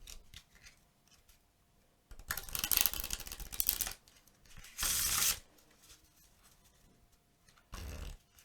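A deck of playing cards is shuffled in two bursts of rapid riffling and flapping, followed by a short third burst, close up with quiet pauses between.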